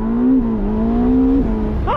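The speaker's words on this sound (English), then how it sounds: "I'll pin the throttle, build up the revs, and let it go" A Ferrari SF90 Spider at launch, its engine note climbing steadily and loud under hard acceleration, with a brief gear-change dip before the revs rise again, close and dominant.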